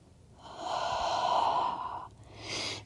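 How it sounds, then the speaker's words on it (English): Deep breathing during a barre and yoga-style stretching workout: one long, soft, airy inhale-exhale close to the microphone, followed by a shorter second breath, quiet and without talk. "Breathing."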